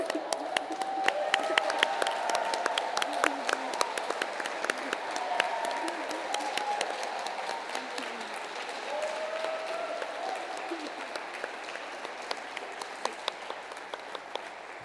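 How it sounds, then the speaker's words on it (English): Sustained audience applause for finalists at a national newspaper awards ceremony, a steady wash of many hands clapping in a large hall with sharper individual claps standing out and murmuring voices underneath. "please stand up as we can give them the round of applause they richly deserve"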